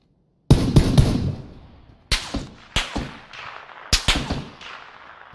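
Suppressed gunfire in PUBG: sharp, close cracks in quick clusters of two or three, separated by short gaps, loud and alone.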